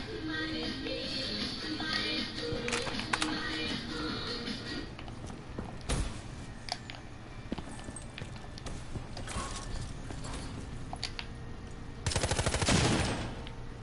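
Gunfire and detonating bombs in the open-world crime game GTA 5 make a steady stream of loud, sharp cracks over a dense, noisy background, capped near the end by a harsher, louder burst.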